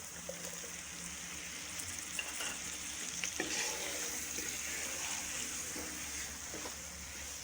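Chopped tomatoes go into chicken frying with spices for aloo chicken, giving a loud continuous close sizzle and hiss with scattered stirring scrapes and clinks, no talk.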